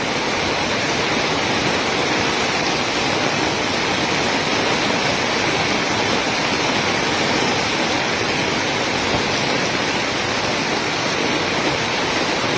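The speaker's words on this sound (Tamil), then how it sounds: "பஜார் தெருவில் எப்படி போகுது பாருங்க தண்ணி" Heavy floodwater from torrential rain rushes down a bazaar street in Tiruvannamalai, a loud, steady broadband roar of flowing water that holds constant throughout with no voices.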